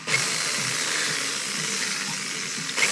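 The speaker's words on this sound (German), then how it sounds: "weil der Bohrer eben schon wieder wirklich stumpf ist" Dull drill bit grinding into a Hot Wheels VW Bus T2 pickup toy car, a steady close, harsh whirring and rasping drone that continues without pause for a few seconds, with no voices.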